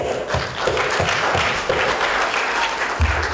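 An audience at a community get-together claps for children's performances, a dense sustained round of applause with scattered louder claps and some low thumps throughout.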